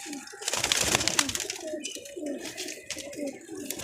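A pet teddy pigeon cooing close by, several soft throaty rolling coos in a loose rhythm over faint background noise.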